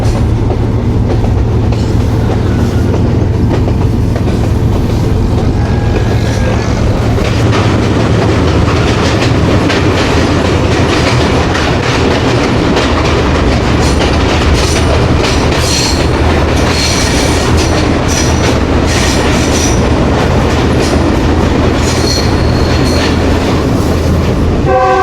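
The Khushhal Khan Khatak Express passenger train runs across the Attock Khurd railway bridge over the Indus River, with loud, continuous wheel rumble, rhythmic clatter over rail joints and occasional squealing throughout, close and unbroken by talk.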